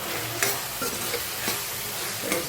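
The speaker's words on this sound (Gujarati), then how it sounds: "સરસ મિક્સ કરી લઈએ." A spatula stirs spiced masala with turmeric, red chilli powder and coriander-cumin powder in a hot pan, producing rhythmic scraping strokes over a continuous close sizzle, with no voices.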